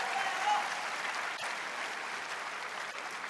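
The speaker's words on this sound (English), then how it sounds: "The crowd baying to see a final resolution in a 7th game." Crowd applause fills an arena at the 2012 Korea Open table tennis men's final between Xu Xin and Zhang Jike, a steady, moderately distant wash of clapping with no distinct voices, at 9-all in a seventh game.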